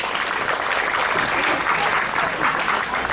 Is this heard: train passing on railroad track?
no